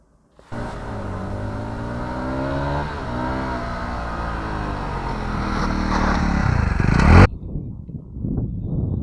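A Malaguti Drakon 125 motorcycle brakes on a slippery surface: a loud, close engine note shifts in pitch as the bike slows, then cuts off abruptly, leaving faint background noise.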